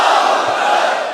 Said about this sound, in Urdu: آئیے میرے ساتھ نعرہ بلند کریں